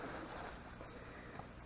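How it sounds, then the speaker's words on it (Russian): At night beside the water, a strong wind roars as a steady low rumble into the microphone, with faint lapping water underneath and no voices. "Сильнейший ветер такой."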